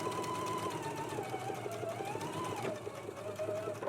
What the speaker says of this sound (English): I finished mine off with my serger